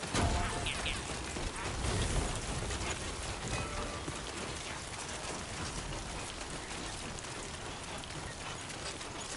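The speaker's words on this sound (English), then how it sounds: "Raining like a motherfucker, man" Heavy downpour in Death Stranding 2, a constant loud wash of rain hammering surfaces, unbroken and enveloping, with occasional faint tonal blips and soft thuds beneath the steady hiss.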